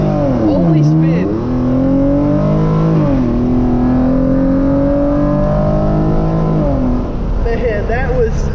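A tuned Hyundai Genesis Coupe 3.8 launches and accelerates hard, its engine note climbing through repeated rising sweeps with gear-change dips, loud and close throughout.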